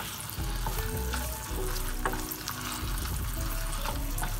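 Kebabs fry steadily in hot oil over a low flame, a continuous close sizzle and crackle with a few scattered pops throughout, no voices.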